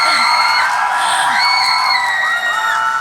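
Audience at a Busan film festival open talk cheering and whooping with high-pitched screams, a dense crowd roar sustained throughout, near and loud.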